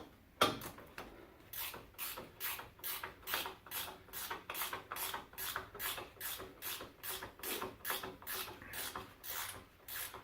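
A ratchet tightens the top strut bolts on a 2006 Ford Explorer rear strut, giving a rapid, even series of crisp mechanical clicks in close succession, close by and fairly quiet.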